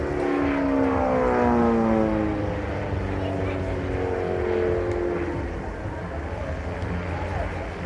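A small aerobatic aircraft with an 80 horsepower engine flies at an air show, its propeller engine drone loud and sweeping in pitch, easing slightly as it passes, with speech over it.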